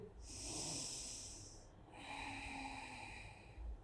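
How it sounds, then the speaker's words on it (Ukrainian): Two long, deep breaths drawn in and out during a yoga session on mats, close and clear with a soft airy rush, no talking. "Вдих. Вдих. І ще вдих."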